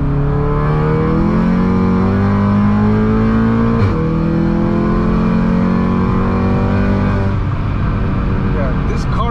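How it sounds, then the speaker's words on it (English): A 500HP Volkswagen GTI accelerating hard in third gear, loud close engine roar climbing steadily in pitch through the rev range, a brief shift-like break midway, then continuing to climb. "Another third gear pull."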